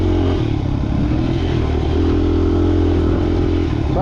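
Motorcycle engine running steadily close by as the bike is ridden, a continuous loud low rumble with slight shifts in pitch and no talking.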